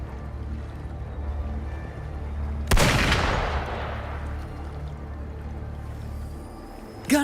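Video game gunfire in Wuthering Waves: a single sharp gunshot-like blast cracks out over a low rumbling background, followed by a fading roar and a second short burst near the end.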